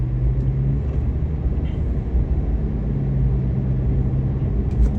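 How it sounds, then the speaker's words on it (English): Road traffic rolls past in Fort Myers, Florida, a steady low rumble of cars heard from a moving vehicle, continuous and fairly loud with no talking. "See, all the traffic now is southbound."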